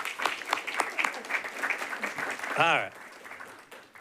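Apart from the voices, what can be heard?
audience applause for a departing staff member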